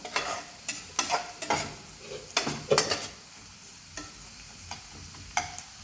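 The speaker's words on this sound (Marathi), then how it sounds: "आता कांदा आपला थोडासा भाजला आहे आणि थोडंसं भाजू द्यायचं त्याला." Onion frying in butter for anda burji, with repeated scraping strokes of a spatula stirring the pan over a soft sizzle. The strokes come in irregular bursts, close up and with no voices.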